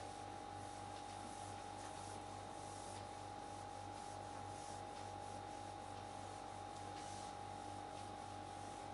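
Something rubs across a classroom whiteboard with a marker nearby, making a faint, continuous scrubbing swish over a steady electrical hum, with no talking.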